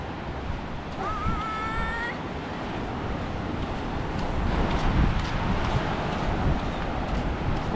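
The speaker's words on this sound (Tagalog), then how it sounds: "Tignan nyo guys ang dagat." Seashore surf rolling in as a continuous broad wash that swells louder toward the end, with wind buffeting and a brief cat-like meow early on.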